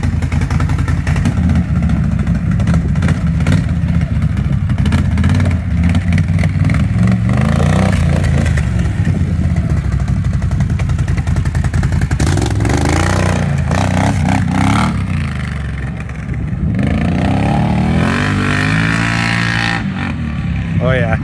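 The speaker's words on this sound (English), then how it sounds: "give you guys a couple sound clips, how it sounds driving" A loud motorcycle-type engine revs and drives close by, its pitch rising and falling through repeated throttle pulls over a steady rumble, with a deeper swell of revving near the end.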